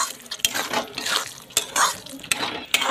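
Peas being stir-fried in masala in a pan for dhaba-style paneer do pyaza, a spatula scraping and clanking against the metal in an uneven rhythm of sharp knocks over a soft background sizzle, close and fairly loud.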